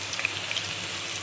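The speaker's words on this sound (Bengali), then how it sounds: "মশলাটা আমি কড়াই দিয়ে দিয়েছি।" Ground spices, ginger and cumin, with a bay leaf hit hot oil in a kadai, giving a faint, steady hiss of frying with a few soft pops over a brief moment.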